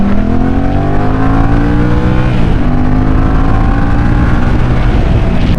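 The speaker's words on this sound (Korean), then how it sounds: "일부러 RPM을 한번 높게 써보겠습니다." A Yamaha XSR 700 middleweight classic motorcycle engine revs hard to high RPM, about 8000, close and loud, pitch sweeping steadily upward, dipping briefly, then climbing again with no talk.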